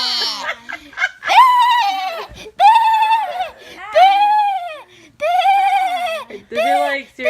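A person imitates a sheep, giving a series of about six wavering, nasal bleats in short bursts separated by brief pauses.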